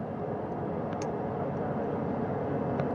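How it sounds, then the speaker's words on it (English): A helicopter flying over the sea during the recovery of returning astronauts, heard as a steady, loud, broadband engine and rotor roar that holds constant throughout. "That second helicopter now making its way back over to the front porch."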